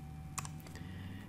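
A few quick light keystrokes on a computer keyboard, close and soft, a brief burst of taps over faint background hum.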